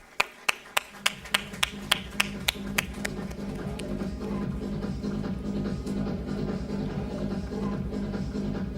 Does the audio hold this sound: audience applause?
yes